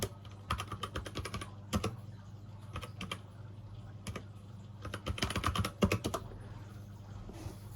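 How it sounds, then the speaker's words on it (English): Quick clicking keystrokes on a computer keyboard come in irregular bursts and pauses, close and moderately loud, with no talking. "I'm just going to type in Andrew Garfield now"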